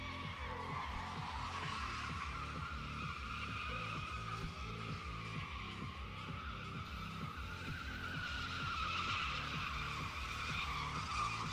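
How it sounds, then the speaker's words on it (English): An LT1-engined car doing burnouts at a drift and stunt show, tires squealing continuously with a pulsing engine roar that holds steady and fairly distant for several seconds. "LT1 burnouts with fire in the background"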